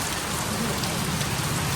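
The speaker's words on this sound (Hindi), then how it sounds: "बहुत तेज बारिश हो रही है," Heavy rain pours down in a dense, steady roar, drumming continuously on surfaces close by with no break.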